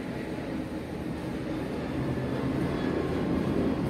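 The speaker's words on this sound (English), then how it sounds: "I live very close to an airport, so this is where you hear the planes" An airplane passes close by near an airport, a broad low roar that fills the whole stretch steadily and swells slightly toward the end, with no talking.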